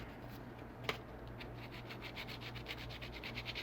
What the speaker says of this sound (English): So you can kind of get in there with your sandpaper